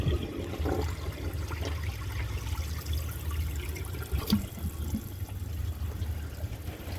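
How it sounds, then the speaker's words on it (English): Water drains out of a 1984 Kilgore Apex toilet tank as a steady, low, rushing gurgle that runs unbroken for several seconds at moderate, even loudness. "Let's empty the rest of the water out of the tank."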